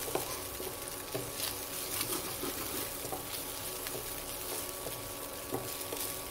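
Prawns sizzle and spatter in ghee in a pan of fig curry, a steady close frying crackle with soft stirring scrapes and occasional louder pops, no voices.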